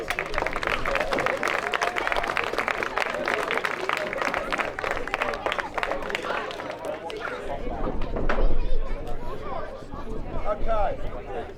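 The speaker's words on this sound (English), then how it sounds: "Please give my Redcoats a big round of applause, please." An outdoor audience at a medieval fort combat display applauds the Redcoats re-enactors, with sustained clapping and crowd chatter rising to a louder swell near the end.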